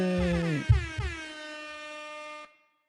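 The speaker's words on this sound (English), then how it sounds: "Kira gets air horn" A loud air horn blast from a livestream sound effect, a strong harmonic blare with a couple of punchy low bursts near the start, holding steady for about two and a half seconds before cutting off abruptly into silence.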